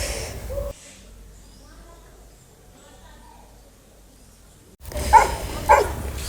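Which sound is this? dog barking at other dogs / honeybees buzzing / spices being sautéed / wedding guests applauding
dog barking at other dogs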